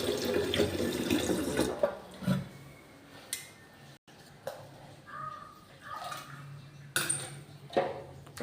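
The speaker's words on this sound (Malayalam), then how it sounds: "ചോറിൽ ആവശ്യത്തിന് വെള്ളം ഒഴിച്ചെടുത്താൽ പിന്നെ ഒന്ന് തിളച്ച് 2 തിളവ് നമുക്ക് വാർക്കാം" Water splashes from a tap into a kitchen sink or pot to cook rice, running in a steady rush for about two seconds, then giving way to intermittent clinks and splashes.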